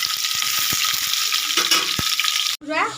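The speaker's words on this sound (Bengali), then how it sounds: "ভালো করে ভেজে নেবো" Potato pieces fry steadily in hot oil, a dense continuous sizzle with a few soft clicks of stirring, close and fairly loud, breaking off near the end before a short burst of other sound.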